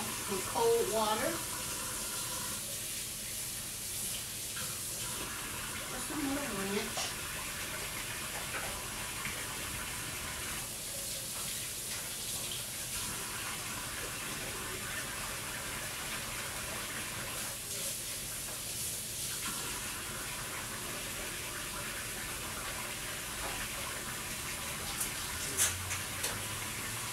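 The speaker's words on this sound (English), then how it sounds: "And I rinse them off with cold water." Cold tap water runs steadily as Polish sausages are rinsed under the faucet, a continuous hissing splash with a few brief clanks, while a person talks at intervals over it.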